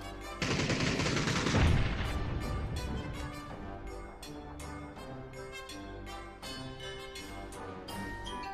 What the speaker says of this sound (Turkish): Etraftan gelen silah seslerini anlamlandırmaya çalışırken oyun kazanmak.